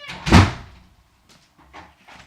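A single heavy thud like a door shutting, followed by a few fainter knocks and rustles in a quiet room.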